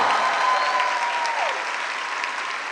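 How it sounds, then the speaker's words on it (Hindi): Applause from the audience at a theatre premiere night for the play Mere Krishn, a dense steady wash of clapping close by, sustained throughout and slowly tapering, with no talk over it. "उनके लिए जोरदार तालियां होगी।"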